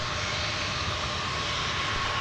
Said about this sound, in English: here's United crossing the south parallel runway.